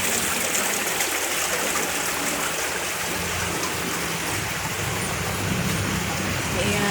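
Clear water flows through a small roadside ditch, a steady broadband rush and trickle that holds constant for seven seconds with no pauses.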